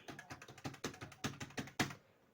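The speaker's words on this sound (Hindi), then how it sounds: "कोला पर आधार नंबर टाइप करनेबा।" Keys tapped on a computer keyboard to enter an Aadhaar number, a quick, fairly even run of about a dozen soft clicks that ends in one firmer press, all faint and heard alone.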